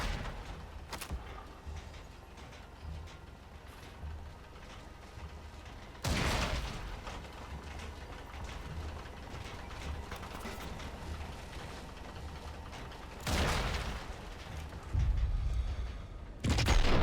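Tank cannon fire in the video game Sniper Elite: Resistance, heard as a few loud, widely spaced blasts with a slow rate of fire over a low mechanical rumble.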